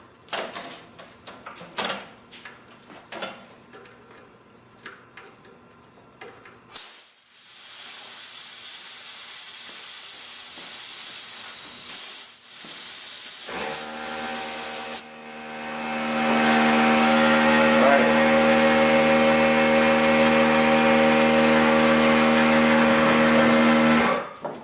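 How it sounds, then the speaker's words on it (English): An air compressor pushes air into a tubeless bicycle tire to seat the bead. Scattered clicks and handling noises come first, then a loud continuous hiss that turns into a louder droning rush in the final stretch. "We'll use the air compressor and get that bead set."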